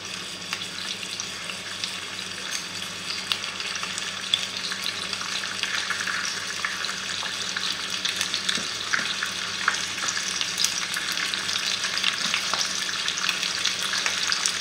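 Rabbit pieces fry in a hot pan, a dense continuous sizzle with occasional crackles and pops, close and steady throughout without speech.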